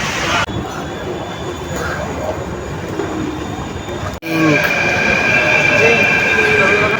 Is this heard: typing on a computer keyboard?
no